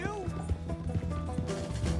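A horse gallops in Red Dead Redemption 2, quick rhythmic hoofbeats thudding under game audio, with a brief whinny-like tone early and a voice talking over it.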